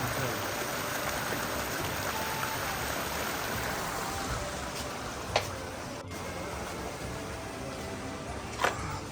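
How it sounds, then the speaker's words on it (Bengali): Mountain water streams down at the entrance of a cave, a constant even rush of flowing water with a couple of faint sharp clicks near the end and no voices. "পাহাড় থেকে জল আসছে"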